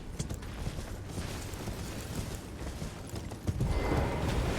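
Horse hooves clip-clopping in Elden Ring, near Fort Laiedd, a steady busy patter under dense game noise that swells louder near the end.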